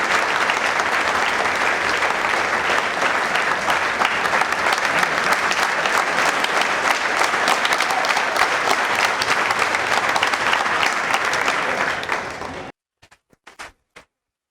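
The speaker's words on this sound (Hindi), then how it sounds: "तालियां बजती रहनी चाहिए।" An audience at a career guidance seminar claps in sustained, dense applause for about twelve seconds, then it stops abruptly, leaving a few isolated claps.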